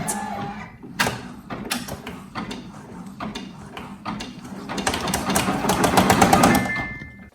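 An embroidery machine stitching with a 7.7x12.5-inch Magnetic Maggie hoop frame, starting with clicks and clunks, then a rhythmic mechanical chatter that builds louder and steadier before stopping.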